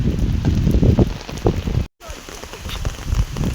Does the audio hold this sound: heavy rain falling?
yes